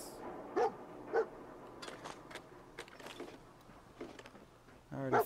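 Dog barking in the video game Fallout 4, a few short barks spaced out amid quiet game sounds and rustling, then a louder bark near the end.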